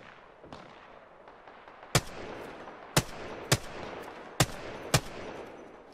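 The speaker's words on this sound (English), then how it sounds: "Shoot the guys on top." Five sharp gunshots from a shooter video game crack out at irregular intervals over a low background rumble, each a loud, brief broadband report with no talking.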